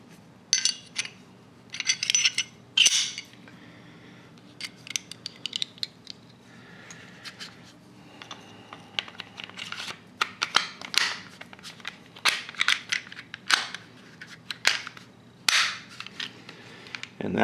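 A Smith & Wesson M&P striker-fired pistol is taken apart, sharp metallic clicks, snaps and sliding scrapes coming in irregular bursts up close against a quiet background.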